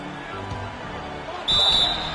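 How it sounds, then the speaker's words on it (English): A referee's whistle sounds once, short and sharp, cutting through the crowd noise at a pro basketball game between the Cavaliers and the Jazz. "And there's the whistle"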